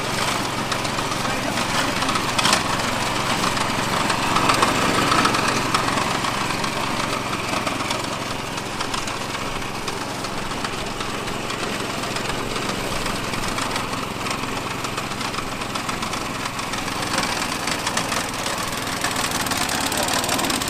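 A ride-on lawn mower engine idles steadily with a constant low rumbling drone and vibration throughout, loud and close.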